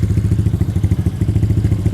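A modified Honda PCX 160 scooter engine idles close by, a steady, rapid, lumpy putter with even pulses, loud and unbroken, with no voices.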